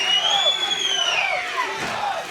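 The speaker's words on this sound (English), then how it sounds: "The crowd celebrating this turn of events." A wrestling crowd cheers and yells in celebration, a loud, sustained roar with high whistles and shouts rising over it.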